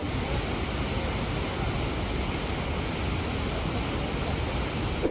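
Iguazu Falls, the great waterfall on the Argentina–Brazil border in South America, roars as a steady, dense broadband wash of falling water, loud and unbroken throughout with no voices.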